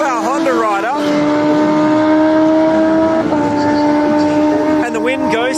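Streetbikes, including a Honda, launch at a drag race: loud, high engine whines climb steeply and step up through gear changes, held at full roar, while a commentator talks over them.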